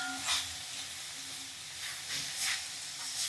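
Ingredients for cabbage chutney roast in a pan, giving a steady hissing sizzle with a few brief scraping stirs, close and alone.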